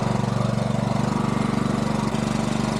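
A portable generator runs at a worksite, humming steadily and loudly with an even low drone and no pauses.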